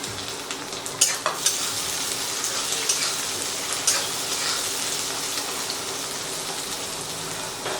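Chopped tomato frying in oil with onion, ginger and garlic for a dhaba-style egg tadka gives a constant close sizzle and crackle, with a few sharper spatula taps early on.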